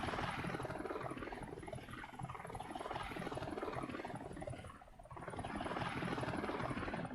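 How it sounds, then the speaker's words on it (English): Helicopter flying in the frozen tundra map of the survival game Undead Legacy, a steady, continuous rotor chop with dense broadband whir, briefly dipping before returning, with no talk over it. "But here's the helicopters."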